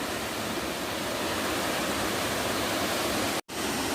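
Steady, loud rush of a small forest waterfall, Dalasari Waterfall in Mandasa, Srikakulam, constant and close, with a brief dropout near the end.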